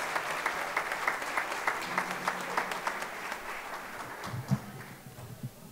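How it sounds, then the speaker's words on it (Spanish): Applause for two verse improvisers at a verseadores event in Valsequillo, rhythmic clapping with distinct regular beats amid the crowd, tapering off as voices and murmurs rise near the end. "Un fuerte aplauso para los dos."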